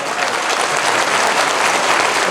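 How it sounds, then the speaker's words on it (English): Loud, dense applause from a crowd at a Hmong community celebration honouring a group of women, steady and unbroken throughout. "another round of applause for those amazing women"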